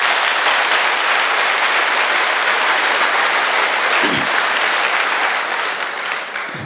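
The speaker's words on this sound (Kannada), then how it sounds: "ಜೋರಾಗಿ ಚಪ್ಪಾಳೆ ಹೊಡಿತು" An audience applauding a young woman from Kolar at a public event, loud sustained clapping from a large crowd that continues unbroken for several seconds and eases slightly toward the end.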